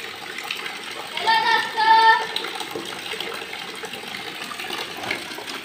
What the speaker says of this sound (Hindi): रेहान धुल रहे हैं बोरा, वो टांगा हुआ है धुल धुल कर, और इसी पानी में वो धुलते हैं।